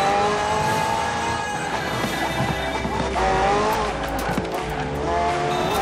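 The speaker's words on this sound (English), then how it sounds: "The car's blistering performance is delivered by a twin-turbo V8, supplemented by a McLaren ECU electric motor and instant power assist system" A McLaren P1 GTR with a twin-turbo V8 and electric assist races in Forza Horizon 4, its engine howling through gear changes while tires squeal and skid in long loud stretches.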